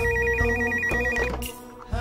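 Electronic telephone ringtone trilling in a repeating pattern, loud and close, fading out near the end.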